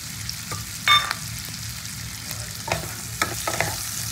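Chilli chicken masala fries in a pan with a constant close sizzle, broken by a few sharp scrapes and knocks of a spoon stirring, and no voices.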